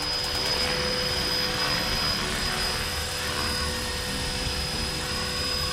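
A Blade 330S RC helicopter in flight, its rotor and motor giving a loud, steady, high-pitched whine with a constant tonal hum that continues throughout and does not let up.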